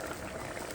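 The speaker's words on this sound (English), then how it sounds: "So I will cover my pot and let the meat boil." A covered pot of pepper goat meat boils on the stove, giving a steady, close bubbling hiss that stays even throughout.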